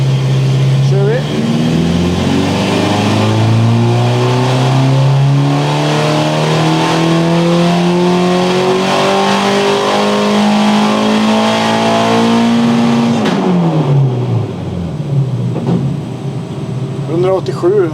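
A Volvo Penta AQ151 marine engine with marine exhaust manifolds revs hard and climbs steadily in pitch for about thirteen seconds, then drops back to a rough idle. The engine is loud and close, and voices can be heard near the end.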